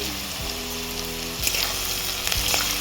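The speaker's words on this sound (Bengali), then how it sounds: "সবগুলোকে ভালো করে একটু ভেজে নেবো" Vegetables for fried rice sizzle loudly in a hot pan, a continuous hiss broken by scraping stirs and clanks of the utensil against the metal, with no voices.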